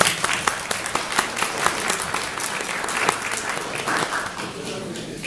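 Applause from a meeting audience of the Patriotic Movement in Mielec as a guest journalist is welcomed. Dense, steady clapping from many hands fills the room and stays loud and sustained throughout.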